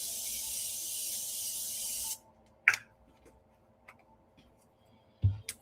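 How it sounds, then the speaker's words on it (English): Morphe setting spray mists onto a face in a steady hissing burst lasting about two seconds, close and fairly loud, followed by quiet with a couple of faint taps. "I love Morphe setting spray, and I love it because it just melts everything together."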